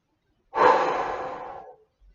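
One long, audible exhale through the mouth during a sophrology relaxation exercise, close and breathy, starting abruptly and fading out after about a second and a half, in an otherwise silent room.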